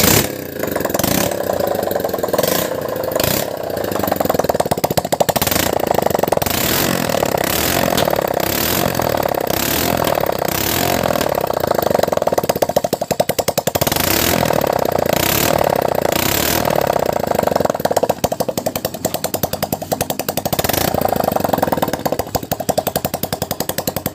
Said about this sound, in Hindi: और बाइक को स्टार्ट करेंगे।